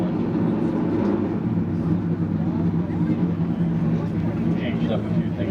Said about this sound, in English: 1980s vintage VW 4-cylinder diesel engine.